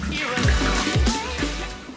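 Water pours and splashes into a fish tank, sloshing in a few uneven surges at close range with a gurgling, bubbling character.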